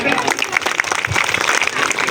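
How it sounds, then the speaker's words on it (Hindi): Village crowd at an outdoor government outreach event applauds in a dense, continuous burst of clapping. "सरकार के लिए तालियां तो बजा दें"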